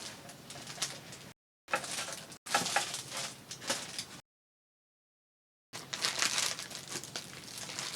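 White paper crinkled and crumpled by hand in close bursts of crackling rustle, separated by short gaps of silence and one longer pause, with no voices.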